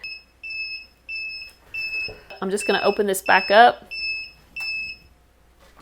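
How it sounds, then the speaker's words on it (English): A high electronic heat press timer, used for sublimating tumblers, beeps in a steady series of long tones, pausing while a person speaks nearby, then resuming. "my timer is going to start, so you are going to hear a couple beeps"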